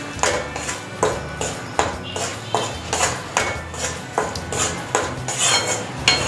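Gram flour roasting over a low gas flame in a pan for Gujarati sukhdi, with a spatula scraping and clinking against the metal in a steady repeated rhythm, close and fairly loud, with no talking.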